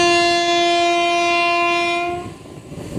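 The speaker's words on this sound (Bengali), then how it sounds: "বন্ধুরা, ট্রেন কিন্তু আমাদের এসে পৌঁছালো লালকুয়ান জংশনে।" A train horn blares loud and sustained for about two seconds from the Ranikhet Express, Kathgodam–Delhi, arriving at Lalkuan Junction, then cuts off leaving rumbling running noise.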